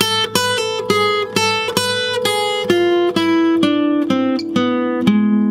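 A guitar plays a gypsy jazz harmonic minor lick slowly, with about a dozen distinct plucked notes at an even, unhurried pace and stepping downward toward the end, loud and clear with no voices.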